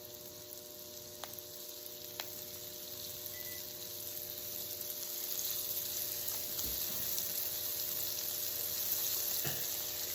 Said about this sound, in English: I'm gonna start putting my shrimp right into the pan